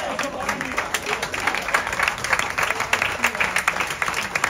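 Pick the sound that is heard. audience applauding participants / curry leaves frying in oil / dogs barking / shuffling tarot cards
audience applauding participants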